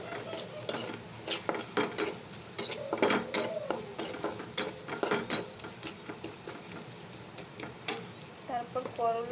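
Spices, salt and turmeric are stirred in a hot pan, with a low sizzle under rhythmic scraping and clattering strokes at close range, and a short voice-like sound near the end.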